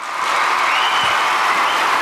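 An audience at an Indian awards red carpet event claps, a dense, steady burst of applause that swells in quickly and holds loud and close for about two seconds.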